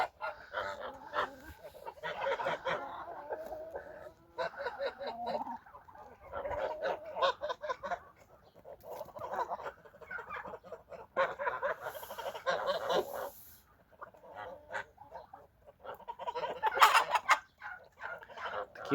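Geese honk repeatedly in loud, close bursts on a farm, calls overlapping in irregular clusters with short pauses between them.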